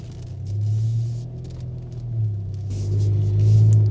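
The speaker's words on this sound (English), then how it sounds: "we've definitely got a fruity exhaust tune" A VW Golf GTI 7.5 with a tuned exhaust rumbles close by in an underground car park, its deep note swelling twice as the engine is revved, with no talk over it.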